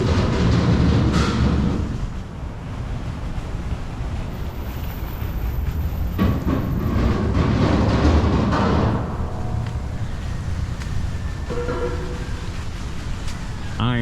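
Burlington Route railroad cars on the Union Pacific line in Lincoln, Nebraska roll past with a continuous rumbling, clattering drone that swells and fades slightly, heard outdoors amid wind buffeting the microphone.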